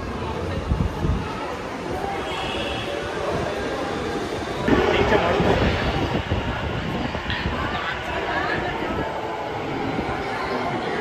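A metro train carries a crowd of passengers to the Narendra Modi Stadium for a cricket playoff match. Its constant rolling rumble and rattle stay loud throughout, with a busy murmur of chatter inside the carriage.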